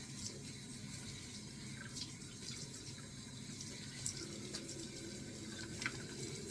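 Hot water runs steadily from a tap into a sink for washing up with a wipe, a constant close splashing hiss with no speech over it.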